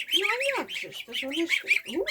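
Geese on a small farm squawk close by, with several honking calls overlapping in quick succession.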